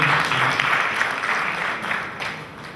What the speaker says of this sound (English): we'd like to applaud that again